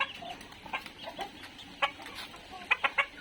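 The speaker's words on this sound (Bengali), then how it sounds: "এই যে এগুলো দেশি মুরগি বাচ্চা এগুলো তিন মাসের মতো বয়স" Young desi chickens about three months old clucking nearby, a scatter of short clucks that bunch into a quick run of three near the end over quiet background.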